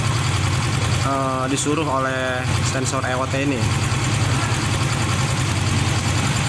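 A warmed-up car engine idling, a steady low mechanical hum running throughout while someone talks over it for a few seconds in the middle.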